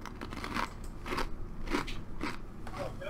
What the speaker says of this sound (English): Can you hear me chewing?